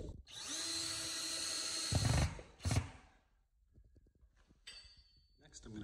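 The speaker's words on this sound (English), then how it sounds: "I'm gonna put in all four screws." A power drill drives screws through a wall into a stud to mount a shelf, a loud sustained whine for about two seconds, then a brief second burst, followed by quieter handling noises.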